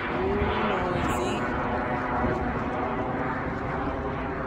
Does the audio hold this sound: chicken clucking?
no